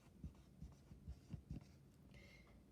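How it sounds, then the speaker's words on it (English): Pen or marker writing on paper during a classroom lesson, quiet scratchy strokes in short bursts at close range, with no talking. "See how I'm writing Bob's."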